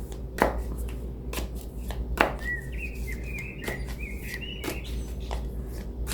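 Tarot cards being shuffled and drawn during a reading, a few sharp riffling and slapping card sounds close up against a quiet background with faint bird chirps.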